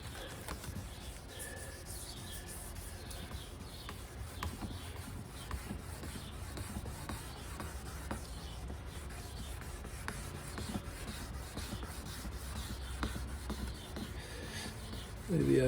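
Abrasive grit scrubbed back and forth over a car headlight lens during restoration, a steady quiet rasping rub that continues without pause throughout.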